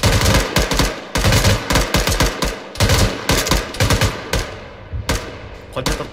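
Gunfire in an ArmA 3 shooting contest: loud, close bursts of automatic fire and repeated shots in rapid clusters with brief gaps throughout.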